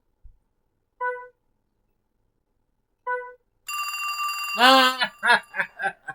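A telephone rings in the Wii game Trauma Center: New Blood with two short electronic ring bursts spaced apart in silence, followed by a sustained tonal burst and a choppy series of short voiced sounds, like a character's garbled game speech.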